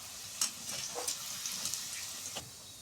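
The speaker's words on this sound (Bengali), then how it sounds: "লাল লাল হয়ে ভেজে ভেজে গেছে, এবারে তুলে নেব।" A breakfast snack frying in oil until reddish, a quiet continuous sizzle with scattered crackling pops, close and soft.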